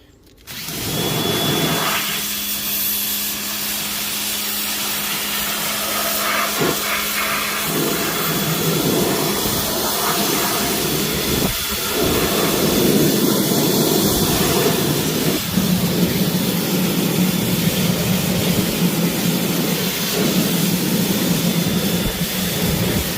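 Water spraying onto sanded Weld racing truck wheels, a loud continuous hiss that holds steady throughout with shifting tone as the spray moves.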